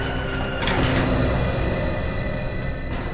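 A lift door slides open with a sustained mechanical rumble and whir, loud and near, swelling slightly early on and then running steadily to the end without talk.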